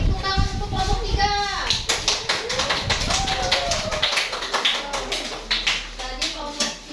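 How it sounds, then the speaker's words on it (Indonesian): A classroom of pupils claps for a group of classmates, many hands patting in a dense, close burst of applause mixed with children's chatter and an adult voice. "Beri tepuk tangan untuk kelompok 3."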